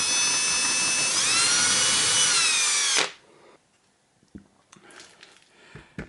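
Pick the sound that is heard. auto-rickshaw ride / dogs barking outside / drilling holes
drilling holes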